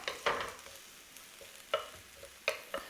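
Chili, onion and garlic frying in a pan give off a soft, faint sizzle, broken by a few sharp clicks and scrapes as the mix is stirred.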